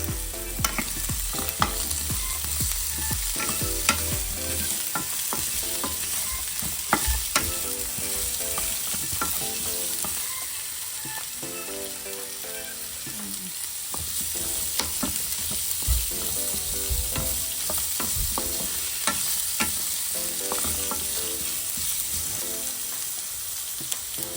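Onions sauté in a pan for ginisang ampalaya, a bitter melon stir-fry, with a constant crackling sizzle close by and frequent clicking scrapes of a utensil stirring throughout, no one speaking.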